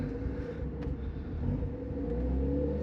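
A right-hand-drive TVR sports car pulls away in first gear, its engine giving a steady, low, droning rumble heard from inside the cabin that gradually swells, with no voices.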